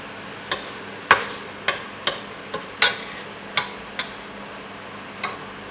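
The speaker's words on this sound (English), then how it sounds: "So onion and garlic going in." Utensil knocks and scrapes in a pan as red onion and garlic go in to cook, a series of sharp separate clicks and taps, fairly close, over a faint steady background hiss with no talking.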